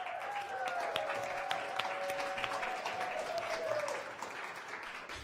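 A studio audience applauds to welcome a guest onto a late-night show stage, sustained clapping at moderate distance with a faint tonal sweep running under it for about four seconds.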